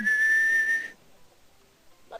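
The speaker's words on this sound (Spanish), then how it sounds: "y ella silbaba" A woman whistles a single sustained, steady high note for under a second, close and clear, followed by near silence.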